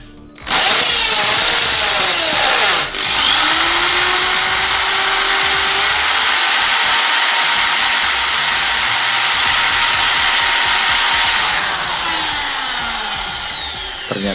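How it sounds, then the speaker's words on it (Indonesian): Loud, continuous whine of a power drill grinding against a hard steel military knife blade, with a brief dip early on, running steadily for several seconds. "Kita bor kedua pisau ini masing-masing sekitar 10 detik."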